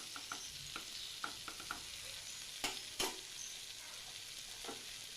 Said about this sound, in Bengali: এখন আমি 1 চামচ ঘি দিয়ে দিলাম।